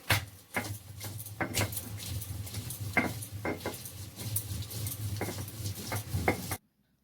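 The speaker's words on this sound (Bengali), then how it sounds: "এবার সবজিটা ভালো করে নাড়াচাড়া করে নিচ্ছি" A spoon stirs and tosses vegetables in a frying pan for a Bengali methi shaak chorchori, with irregular scraping and clinking strokes over a low frying hiss, close by and alone before the sound cuts off.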